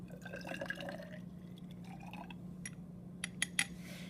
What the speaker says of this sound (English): I'm going to take my acid, pour it in the 100 milliliter graduated cylinder